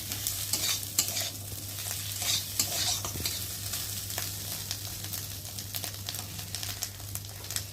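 Fish roe fries in a pan with scraping and stirring, a close, steady sizzle broken by repeated utensil scrapes over a low constant hum, with no talking.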